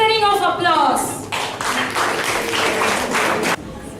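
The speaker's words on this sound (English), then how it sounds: "Let's welcome them with a thundering of applause" Audience applause at a children's school show in Bangalore: a dense burst of clapping from a large crowd starts about a second in, following a brief earlier sound, and stays steady and loud before dropping off sharply near the end.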